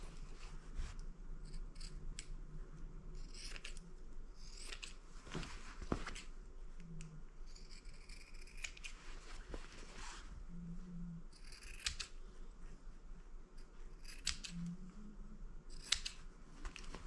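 Scissors snip the corners of a small leather purse reinforced with Peltex: a quiet, close series of irregular crisp clips over faint room hush, with no talking.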